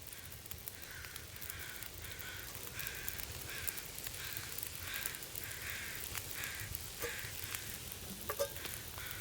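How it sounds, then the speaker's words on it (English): Venison steak frying over a campfire in The Long Dark, a steady crackling sizzle running throughout with soft periodic pops, close and continuous with no talk. "And then we'll start cooking that venison."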